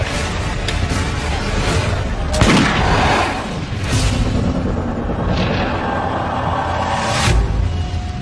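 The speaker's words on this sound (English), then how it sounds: "Europeans pick up on the idea, embracing and perfecting gunpowder weapons." Gunpowder weapons firing in a documentary sound effect, a dense, continuous roar of overlapping gunshots and booms with scattered louder blasts, steady and loud throughout.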